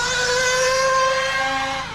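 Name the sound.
Serpent 1/8 RC buggy driving on track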